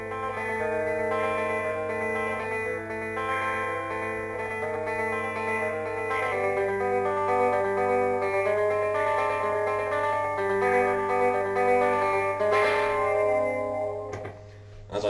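Electric guitar played through reverb and a Danelectro effect pedal, sustained chords and notes ringing with a shimmering, echoing wash, held continuously at a steady level and alone, ending with a brief rattle.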